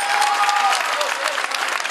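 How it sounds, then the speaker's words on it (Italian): Audience applause at a dance show on stage, steady crowd clapping at moderate loudness that tapers slightly, with a faint tone in the background. "Vi facciamo un grande applauso."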